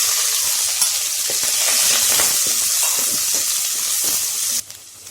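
Onions fry in hot oil with spices for mutton biryani, giving a loud, close, continuous sizzle with some stirring that drops off abruptly just before the end.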